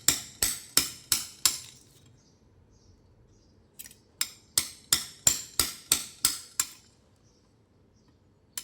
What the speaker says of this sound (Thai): สกัดหัวสายนะครับ งานสกัดหัวสาย